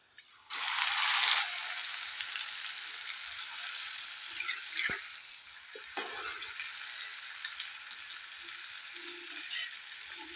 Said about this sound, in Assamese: এতিয়া মই আপোনালোকক দুটা ভাজি দেখাম।